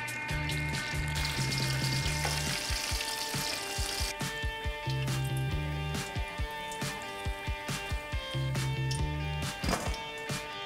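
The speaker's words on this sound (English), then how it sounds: "we're gonna carefully add our cubes to the oil, fry them up till they're nice and crispy" Tofu cubes deep-frying in oil heated to 390°F give a steady crackling sizzle that runs through the whole stretch, partly masked by rhythmic background music with a pulsing bass line.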